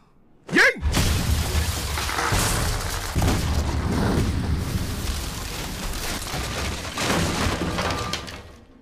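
A sharp gunshot-like burst opens the scene, followed by a sustained rumbling, crackling roar of battle noise and debris in a historical drama set around the 1911 Revolution, loud and dense throughout.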